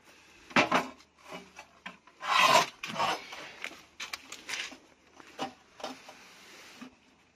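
Old grease is wiped and scraped off a Thule G2 slide-out step on a campervan, heard as irregular close rubbing and scrubbing strokes with short bursts and pauses, without speech.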